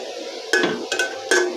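Leafy greens with broken bori lumps are stirred in a frying pan: three distinct scraping, clinking strokes of the utensil against the pan, close up, with a quiet background between them.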